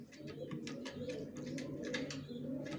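Young racer pigeons, a female and a male squab, coo softly and steadily in a low, throaty rumble, with faint bursts of higher chatter above it. No voices are heard.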